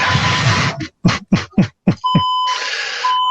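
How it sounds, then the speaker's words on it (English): A building fire alarm test gives electronic beeps: a sharp run of short bursts followed by a sustained, loud, steady tone, close and insistent. "they're going to do a fire alarm test on Thursday, August 11th from 9 to 5"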